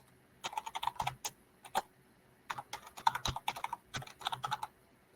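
Someone types an email address on a computer keyboard, quiet bursts of rapid key clicks separated by short pauses, close by and with no talking.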